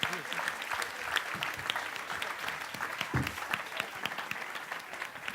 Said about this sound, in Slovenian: Bravo. En aplavz